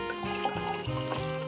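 Hoppy beer-taste soft drink is poured into a glass with the base liquor, a close, steady liquid gurgle with shifting fill tones as the glass fills and the fizz builds.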